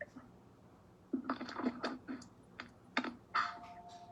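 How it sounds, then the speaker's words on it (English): Bursts of keyboard typing, keys clacking in short irregular runs with pauses between them, fairly close and moderately loud over quiet room background. "He's typing."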